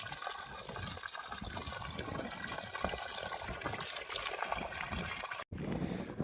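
Water gushes steadily from the outlet of a Shakti 3 HP solar pump after two and a half hours of running, a loud continuous rushing splash that cuts out for a moment near the end before resuming.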